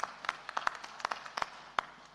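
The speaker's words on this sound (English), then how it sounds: "So please let's give Tolu a big round of applause" Scattered, faint clapping from a small audience at a dialogue event with a Lagos governor, a handful of sharp, uneven claps spread over a couple of seconds, quiet and somewhat distant.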